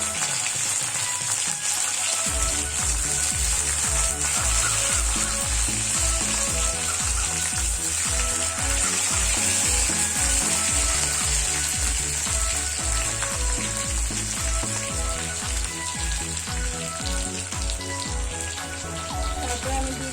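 Curry leaves sizzle steadily in hot oil while South Indian rasam is cooked, a continuous bright crackling spatter that runs through the whole stretch beneath rhythmic background music.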